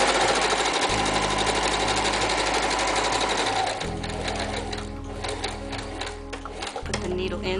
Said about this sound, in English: sew right down the side.